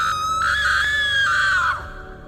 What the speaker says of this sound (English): She screamed as if something were about to kill her.